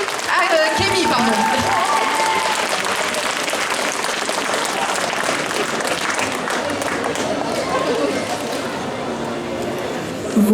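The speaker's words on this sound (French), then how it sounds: "Donc je vous demande d'applaudir Ulquiorra par Yumi Kemi" Sustained applause and cheering from an audience at a cosplay contest at Pontageek 2025, a dense wash of clapping that fills the room, fairly near and steady, with voices faintly mixed in.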